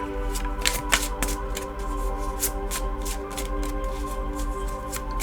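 Tarot cards being shuffled by hand in a steady run of soft riffling flicks and slaps, close and alone, with no talking.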